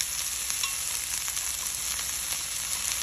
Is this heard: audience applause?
no